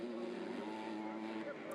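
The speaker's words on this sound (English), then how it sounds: "Just listen to him screaming that little 250, revving its heart out." A 250cc motocross bike in an MX2 race at the Swedish MXGP screams at high revs, a sustained buzzing engine note rising and falling slightly over a crowd-like background.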